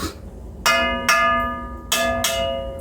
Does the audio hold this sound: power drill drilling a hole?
no